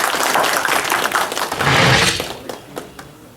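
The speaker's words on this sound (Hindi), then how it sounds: "तो एक बार फिर से तालियां डॉक्टर मधुबाला के लिए" A conference hall audience in Patna claps for Dr. Madhubala, a dense wash of applause swelling near the middle and then thinning out, with a few scattered claps at the end.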